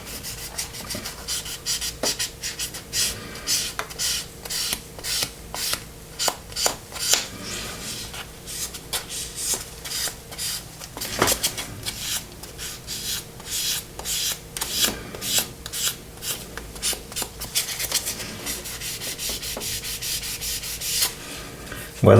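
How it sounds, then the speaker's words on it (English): Steady scratchy sanding strokes on a 1:72 Airfix BAE Hawk plastic model kit, close and continuous, rubbing back and forth in an uneven rhythm with no voices. "Where there's a decal I am sanding a bit more"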